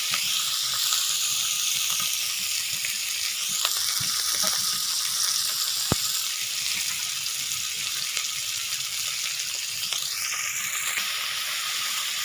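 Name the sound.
stirring tomatoes and salt in a frying pan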